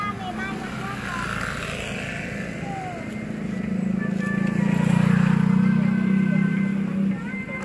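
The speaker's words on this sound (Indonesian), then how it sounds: "Mas ada motor, awas ada motor." A motorcycle moving along a narrow street, its engine drone swelling louder and nearer toward the middle and end, then dropping off, with people talking over it.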